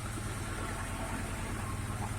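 Homemade tractor with a VAZ-2106 engine running, a faint, steady low idle rumble throughout, alone with no speech.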